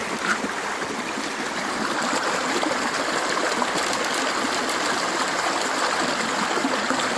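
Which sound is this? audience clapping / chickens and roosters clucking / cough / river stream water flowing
river stream water flowing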